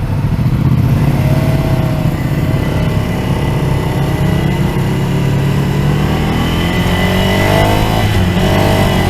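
A Ducati Scrambler middleweight motorcycle engine drones loudly and steadily while riding, its harmonics sliding upward as it accelerates, with a rougher revving swell near the end under constant wind rush and no voices.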